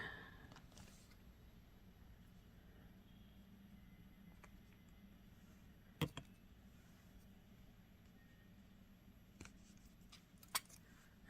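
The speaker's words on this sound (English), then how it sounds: "we need to cut another piece of our tubing" A pair of scissors snips plastic tubing for a flower necklace craft, giving a few isolated, quiet clicks against a soft background hush.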